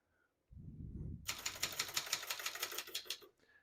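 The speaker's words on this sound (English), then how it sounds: "all the keys type nice and none of them skip or stick" Rapid keystrokes clatter from a 1965 Brother De Luxe portable typewriter, a steady run of sharp mechanical clicks close up after a brief low thump, typing evenly with no skips.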